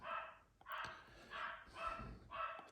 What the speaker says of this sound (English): Apologies if you can hear my dog going crazy.